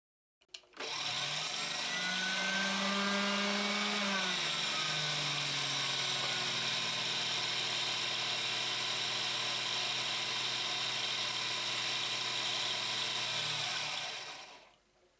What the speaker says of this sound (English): Pull out the bobbin winding engaging lever and carefully start to operate the foot pedal.